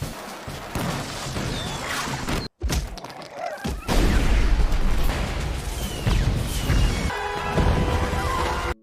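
Firecrackers burst in an animated battle between ant armies, a dense run of booms, thuds and sharp pops with crackling debris and one brief gap of silence.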